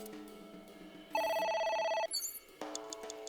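A phone rings in the game AI: The Somnium Files, one short electronic ringtone burst with bright repeating tones, followed by a few brief game sound cues and another tonal burst starting.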